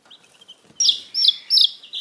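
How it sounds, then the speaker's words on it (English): Chickens of the world's largest laying breed let out three quick, bright, high-pitched calls close by, each brief and sharp, after a moment of near silence. "They are the world's largest laying chicken breed."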